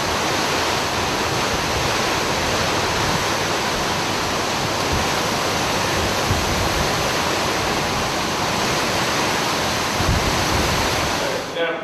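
Hurricane Katrina rages outside in Gulfport as a loud, unbroken roar of wind and driving rain that holds steady throughout.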